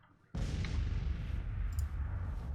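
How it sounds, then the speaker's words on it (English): Cannon artillery fire in the Civil War strategy game Grand Tactician, one sudden loud boom followed by a long rumbling roar and a faint crackle. "Now, what's up with the cannons?"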